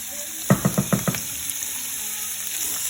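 Shrimp go into hot oil in a pan, a quick run of five close pops or plops followed by a steady, faint sizzling hiss.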